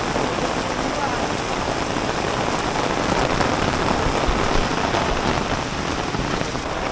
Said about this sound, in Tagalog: Hindi, walang tigil kasi yung ulan. Tuloy-tuloy pa rin yung ulan, oh.